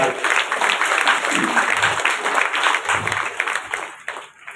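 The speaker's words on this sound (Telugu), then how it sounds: "అందరికి ఒకసారి గట్టిగా చప్పట్లతోటి" A crowd claps loudly and continuously in a temple during a Ganesh puja, with dense overlapping applause that tapers off near the end.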